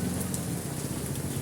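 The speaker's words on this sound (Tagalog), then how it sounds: "Sobrang lakas ng ulan." Heavy rain pours down in Punta Santa Ana, a dense, steady hiss of drops beating on surfaces, uniform and unbroken through the whole moment.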